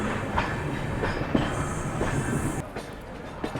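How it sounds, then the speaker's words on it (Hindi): An Amrit Bharat sleeper train rolls into Bhusawal Junction railway station, with rumbling wagons, clattering wheels and a faint squeal, heard close and continuous throughout. "दोपहर के एग्जैक्ट 3 बजे अपना अराइवल हो रहा है भूसावल जंक्शन रेलवे स्टेशन पे।"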